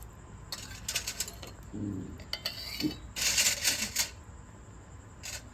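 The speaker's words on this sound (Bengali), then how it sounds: "এবার আমি সবাইকে প্লেটে করে তুলে চামচ দিয়ে তুলে তুলে প্লেটে করে দিচ্ছি" A spoon scoops homemade lachha onto plates at home, giving a run of crisp metallic clinks and scrapes in short bursts with brief pauses, close by and moderately loud, and no talk.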